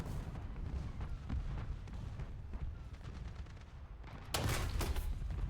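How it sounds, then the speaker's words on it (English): Sustained machine gun and cannon fire in a War Thunder tank battle, dense rapid bursts over rumbling engine noise, growing louder and harsher near the end. "Machine guns, machine guns."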